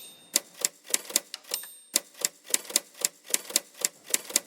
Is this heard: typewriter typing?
yes